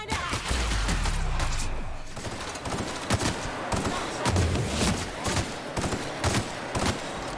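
Rapid bursts of automatic gunfire and single shots in a firefight in The Outer Worlds video game, loud and dense, with clattering impacts throughout and no voices.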